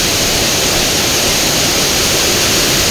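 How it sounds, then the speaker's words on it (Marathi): A small waterfall gives off a steady, dense rush of falling water, loud and close, with no breaks or voices over the whole stretch. "मित्रांनो, तुम्ही बघत असाल माझ्या मागे हा एक छोटासा वॉटरफॉल आहे।"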